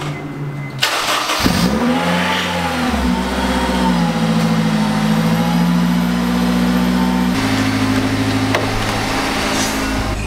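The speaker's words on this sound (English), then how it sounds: "we're gonna drive around a little bit here" A car engine starts and revs, then settles into a steady drive, loud and close, with no talking, out on a cold 15-degree day.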